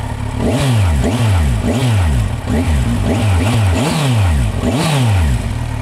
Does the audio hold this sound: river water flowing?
no